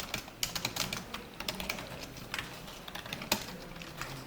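Close, soft keystrokes on a computer keyboard in short irregular bursts, a few sharper taps standing out, with no speech.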